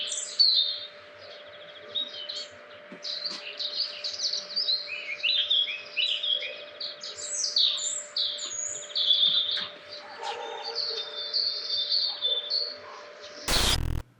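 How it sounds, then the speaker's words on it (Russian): Morning birdsong in Chernobyl: several birds chirp and trill continuously over a low steady hum, fairly close and lively, ending in a brief loud bump; no talk. "Давайте еще такую вот маленькую минутку наслаждения пением птиц, утренним, чернобыльским"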